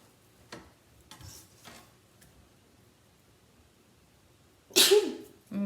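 A single sharp, loud sneeze bursts out near the end after a stretch of quiet, faint background noise, followed by a brief trailing sound.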